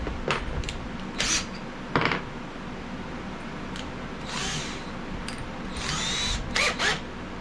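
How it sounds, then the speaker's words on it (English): A step drill whirs in short, intermittent bursts nearby while building a Berkey-style water filter, separated by quieter pauses with faint background noise. "Let's use our handy dandy step drill."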